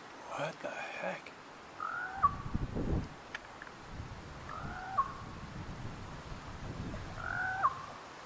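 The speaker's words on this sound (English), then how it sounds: "It's just a crow?" A crow calls three times, spaced a few seconds apart, with low rumbling background noise and some muffled sounds between the calls.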